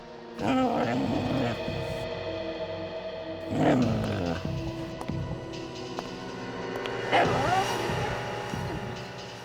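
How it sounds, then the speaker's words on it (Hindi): A dog cries and whines in three drawn-out, wavering bursts spread evenly across the scene in a crime drama, fairly loud and close, with quieter stretches between them. "ये कुत्ता रो रहा है।"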